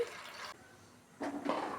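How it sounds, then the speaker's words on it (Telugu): Water is poured from a vessel over chopped vegetables in a cooking pot for Andhra-style sambar, two short splashing gushes separated by a quiet pause, close and soft. "కట్ చేసిన కాయగూరలన్నీ ఉడకబెట్టుకుందామండి కొద్దిగా నీళ్లు పోసుకుందామండి"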